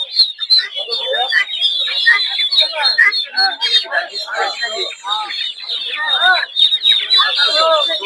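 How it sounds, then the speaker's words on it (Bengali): Small Sebright chickens at a busy poultry market in Narsingdi, Bangladesh, keep up dense, overlapping high chirps and clucks for the whole stretch, fairly close and loud, with a murmur of market voices mixed underneath. "এগুলো হচ্ছে ছোট সেব্রাইট মুরগি,"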